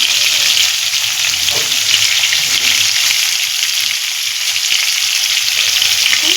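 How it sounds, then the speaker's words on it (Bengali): Salted potatoes fry in hot oil over medium heat, a loud, even, continuous sizzle heard up close, with a few light stirring knocks and no speech. "এর মধ্যে আমি নুন দিয়ে আলুটাকে আমি ভালো করে ভেজে নেব"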